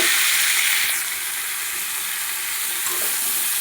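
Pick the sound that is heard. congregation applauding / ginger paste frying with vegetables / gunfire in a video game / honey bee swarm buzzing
ginger paste frying with vegetables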